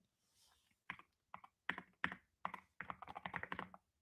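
Bursts of keystrokes on a computer keyboard, quiet and close: a few isolated taps, then a quick run of rapid typing clicks, with no voice.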